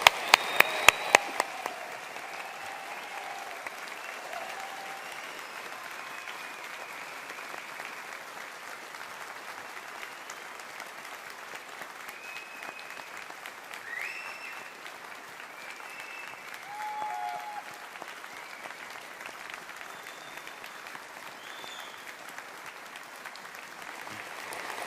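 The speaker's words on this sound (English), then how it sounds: "Let's give all of our autumn graduates of 2024 a big round of applause" Sustained applause fills a university hall for autumn 2024 graduates at a graduation ceremony, starting with a few sharp claps and settling into a steady, even roar of many hands lasting throughout.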